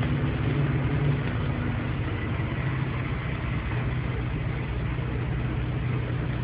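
A truck engine runs at a steady low rumble, close and continuous with little change in pitch, a dense idle-like drone throughout.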